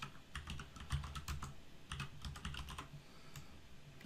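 Fingers tap out a quick, irregular run of keystrokes on a computer keyboard, close and crisp, in bursts with brief pauses.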